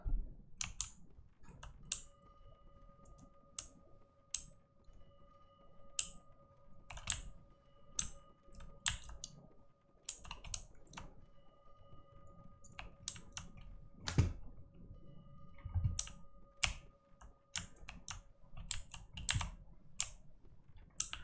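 Mouse and keyboard clicking during a Bloodborne emulator session, with rapid, spammed left clicks and key taps in irregular bursts for about twenty seconds, close and crisp over a faint hum, with no talking.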